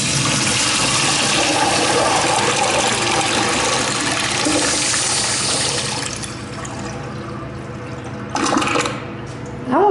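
An American Standard Afwall toilet flushing, a loud close rush of water that swirls for several seconds, then drains down and gives way to quieter refilling with a short gurgle near the end.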